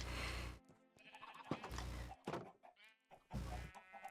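Sheep bleating in the Minecraft modpack Stoneblock 4, several separate bleats in bursts with soft thunks and game sounds between, fairly close and clear, no talking.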